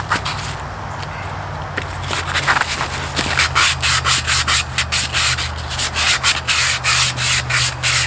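Wet sanding of a round Borla Stinger exhaust pipe on a 2004 Cobra with 400-grit sandpaper, heard as steady close rubbing strokes that speed into a quick repeated back-and-forth rhythm, with no talking.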